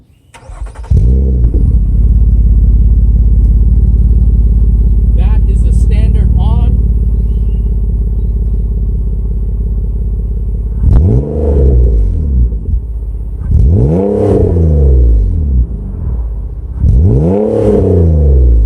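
A Nissan Maxima fitted with a Megan Racing OE RS cat-back exhaust idles with a deep steady drone, then revs up several times to around 4,000 rpm, each rise and fall loud and close.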